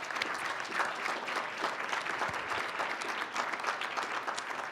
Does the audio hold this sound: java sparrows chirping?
no